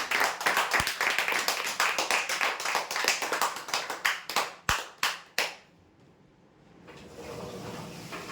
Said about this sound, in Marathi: टॉर्चसाठी जोरदार टाळ्या होत्या यासाठी